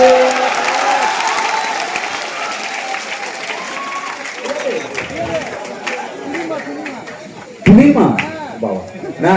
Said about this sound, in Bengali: ভালো লাগলে হাততালি জমা করে